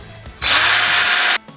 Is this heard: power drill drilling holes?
yes